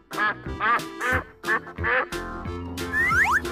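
A cartoon duck in an animal-choosing video game quacks in a quick string of loud, nasal calls, close and alone, ending with a rising squawk.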